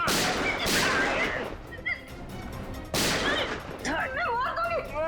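Two sharp gunshots ring out in a TV crime drama scene, each followed by a decaying echo, with someone speaking in between and after.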